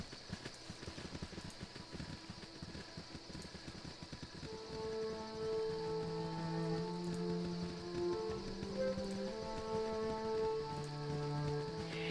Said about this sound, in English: The rain. Just when I was enjoying the night a little bit.